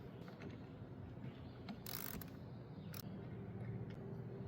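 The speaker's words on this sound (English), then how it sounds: "we'll grab our 10mm and loosen this bolt up" A 10mm wrench works loose the negative battery terminal bolt on a Toyota Camry, giving a few close, dry ratcheting clicks and creaks, with two sharper bursts against a steady background hum.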